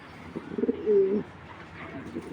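A few soft, low coos from racing pigeons close by, a short burst of throaty notes followed by a longer rolling coo, then quiet background.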